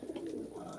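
Young racing pigeons from the 2019 season coo in a loft, a soft, steady low murmur of overlapping calls held close and continuous through the short moment.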